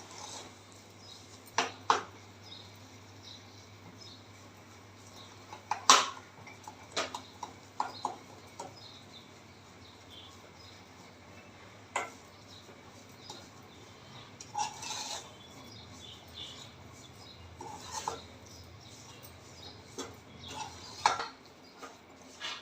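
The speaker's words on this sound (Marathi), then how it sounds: "एक 2 मिनटं अजून मी भाजून घेणार आहे" Moong dal flour being dry-roasted in a kadhai, heard as faint, sparse scrapes and taps of stirring against the pan, with a low steady hum and long quiet stretches between them.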